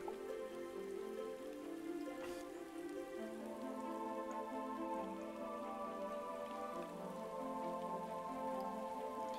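Steady rain falls continuously in the pixel-art video game Starbound, an even patter with soft game tones layered underneath, no speech.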